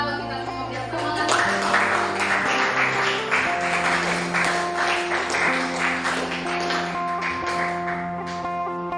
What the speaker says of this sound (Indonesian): Tepuk tanganlah bagi kita semua biar semangat.